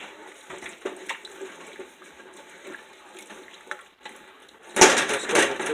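Running tap water rinsing burnt spice residue off a cooking pan for Indian beef curry, a soft trickle with light clinks that swells into a louder rush of water near the end.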